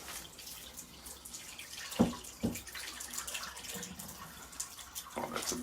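Water draining through a newly installed bathtub trip waste and overflow drain, gurgling and splashing with a couple of sharp sloshes, close and moderately loud, with brief low voices.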